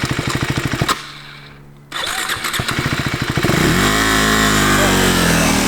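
KTM 390 single-cylinder motorcycle engine idling with a rapid even thump, cutting out briefly, then firing again and revving up hard into a loud sustained pull away, close by.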